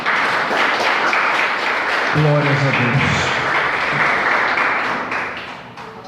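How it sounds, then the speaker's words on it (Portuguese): A congregation at a Lenten church service claps continuously and loudly throughout. A single voice calls out briefly partway through, and the clapping thins slightly near the end. "dê uma salva de palmas para Jesus"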